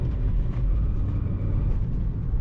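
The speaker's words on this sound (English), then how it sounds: "You can hear that clutch screaming" A Volkswagen Up with a worn, slipping clutch droning low and steady under hard acceleration, a constant engine-and-drivetrain roar filling the cabin with no talk.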